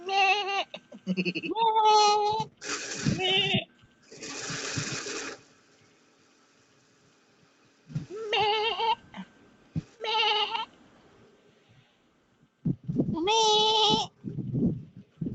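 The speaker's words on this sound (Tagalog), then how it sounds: "Parang kambing." Bursts of wavering, goat-like bleating come in separate spaced calls, fairly close, with quiet gaps between them.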